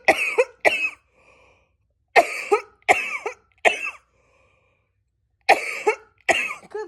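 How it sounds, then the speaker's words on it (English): A person coughs repeatedly in close, harsh bursts, mostly in pairs separated by short quiet gaps, with a faint throat-clearing sound in between. "I'm just sitting here and I'm still coughing"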